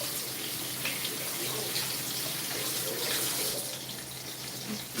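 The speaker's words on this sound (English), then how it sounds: "Rinse these tomatoes off." Tomatoes are rinsed under a running kitchen tap, a steady, close rush of water spattering without pause throughout.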